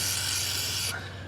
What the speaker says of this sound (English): I'll spray it with a little fluid film, let it just kind of cling on there